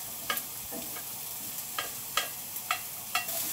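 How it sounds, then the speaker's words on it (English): Onions fry in a pan for a chicken and broccoli stir fry, a steady soft sizzle punctuated by several sharp stirring scrapes at roughly even intervals, close and quiet with no speech. "Fry the onions about a minute."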